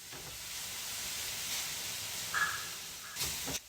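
Veal sizzling steadily in a hot pan for Philly cheesesteaks, a soft continuous hiss and crackle with a couple of brief louder spits near the end.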